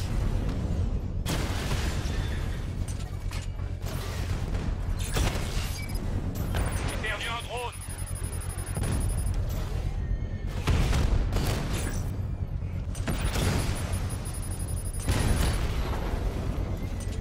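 Repeated booming explosions and gunfire from the video game Batman: Arkham Knight, loud and dense, with excited French talking over the action.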